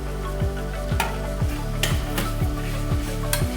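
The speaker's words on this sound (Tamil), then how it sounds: "உப்பு போட்டு நல்லா வதக்கணும்" Salted tomatoes sauté in a pan for mushroom biryani, a soft sizzle running under a regular series of stirring scrapes and light clinks roughly every half second, with an electronic hum beneath.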